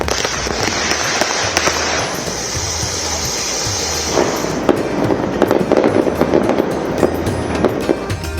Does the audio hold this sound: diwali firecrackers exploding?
yes